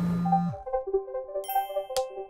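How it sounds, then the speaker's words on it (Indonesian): A mobile phone rings with a bright, repeating electronic ding melody, clear and close, after a brief low tone fades out; no voices. "Dan ponsel masih berdering."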